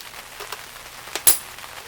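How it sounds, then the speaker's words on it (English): Light rain falling outdoors onto a 1958 Studebaker Commander, heard as a faint, sparse patter of drops with a few slightly louder taps. "it's raining"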